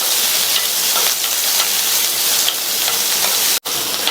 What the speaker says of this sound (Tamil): இந்த வெங்காயம் பச்சை மிளகாய் ரெண்டும் கொஞ்சம் வதங்கட்டும்.